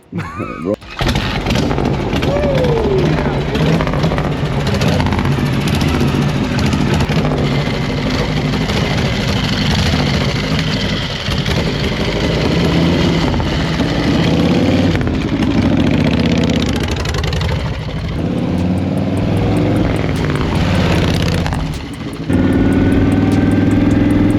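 A Harley-Davidson Dyna motorcycle engine runs loud and close, rumbling and idling with shifting revs throughout, while people talk over it.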